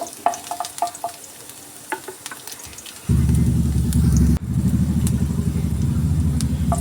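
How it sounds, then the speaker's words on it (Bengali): Chopped garlic hits hot oil in a pan and bursts into a loud, steady sizzle that runs on without a break, after a few quieter kitchen clinks. "রসুনটাকে আমি একটু হালকা করে ভেজে নেব।"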